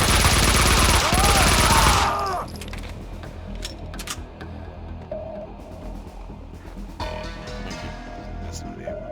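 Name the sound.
gunshots in Max Payne 2 video game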